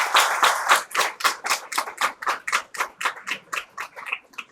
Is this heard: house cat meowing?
no